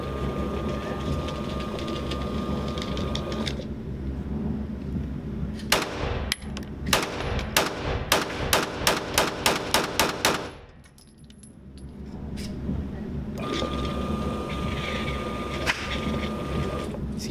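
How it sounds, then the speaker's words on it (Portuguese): A quick string of about a dozen sharp shots from a Smith & Wesson M&P 9 M2.0 9mm pistol rings out in rapid succession, with steady background noise before and after. "Agora vamos fazer uns disparos rápidos ali"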